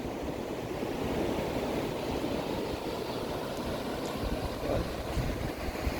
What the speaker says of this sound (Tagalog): Medyo maingay ng konti dahil sa alo ng dagat.